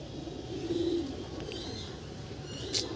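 Pigeons in a loft give a quiet, low coo around the first second, then a soft continuous murmur with a faint sharp chirp near the end.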